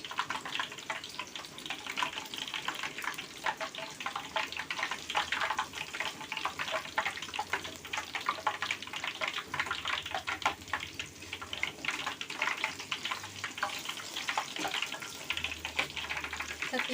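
Black soybean and peanut crackers (peyek) frying in hot oil give a steady, dense sizzle and bubbling hiss that carries on close and alone throughout.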